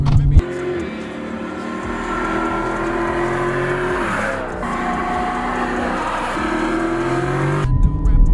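A Dodge Challenger SRT accelerates hard from the driver's seat, its engine roaring loud and steady for several seconds with a rising pitch before it cuts off abruptly.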